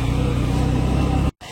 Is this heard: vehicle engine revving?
yes